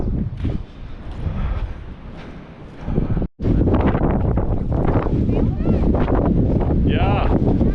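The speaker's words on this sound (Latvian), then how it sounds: "baigi pūš vējš" Strong wind blasts across the microphone outdoors in rural Georgia near thermal pools, a loud rough roar that briefly cuts out, then returns even harsher and keeps buffeting.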